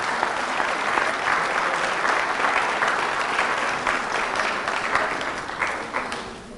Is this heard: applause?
yes